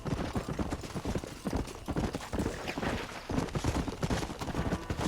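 Rapid, rhythmic clip-clop of galloping horse hooves in the video game Red Dead Redemption, continuous and fairly close, with a rough, busy texture and no voices.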